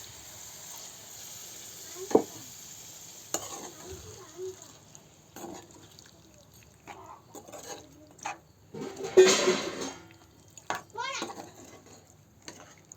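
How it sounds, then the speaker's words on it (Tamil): Water poured into a pan of frying village-style chicken fry (kozhi varuval), bringing a sizzling burst among quieter stirring and pan sounds, with a voice and speech heard intermittently. "இப்போ வந்து நம்ம தேவையான அளவு கொஞ்சமாக மட்டும் ஒரு அரை டம்ளர் அளவுக்கு மட்டும் தண்ணி விட்டுக்கலாம்"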